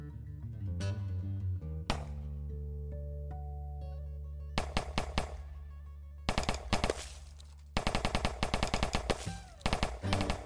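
Gunshot sound effects in a Java 2D game, bursts of rapid repeated shots fired in several clusters over a looping game music track, loud and close with no talk.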